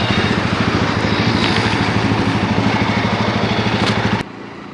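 A Jawa 42 Bobber motorcycle cruising on the Noida–Agra Expressway in the early morning: a steady, loud engine drone mixed with wind rush. It drops abruptly to a lower, quieter hum near the end.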